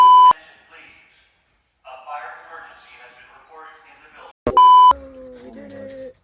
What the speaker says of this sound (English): Wow, fire alarm going off.